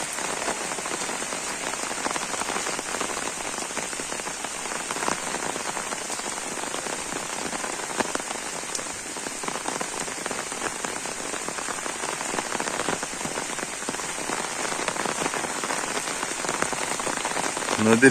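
Light morning drizzle falls steadily near a river, a close, even hiss of raindrops on surfaces that holds unbroken for the whole stretch with no voices.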